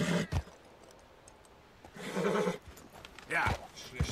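A horse in Red Dead Redemption 2 whinnies and snorts, and hooves clip-clop in short bursts. Game voices and a player's talk run over the animal sounds at moderate loudness.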